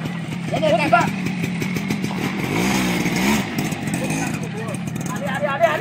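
A motorcycle engine runs steadily throughout, its low rumble partly masked by several people talking nearby.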